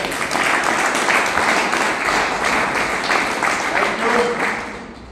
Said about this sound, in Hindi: मैं चाहूंगा हम सभी मिलकर उनके लिए जोरदार तालियां बजाएं